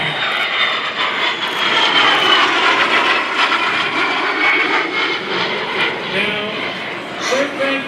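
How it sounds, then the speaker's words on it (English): A de Havilland Vampire jet flies a photo pass at an airshow, a sustained roaring, whooshing engine sound that swells and fades, with an announcer talking over it throughout. "Jerry Conley, the photo pass with the DeHavilland Vampire"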